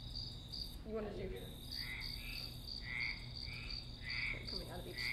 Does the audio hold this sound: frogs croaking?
yes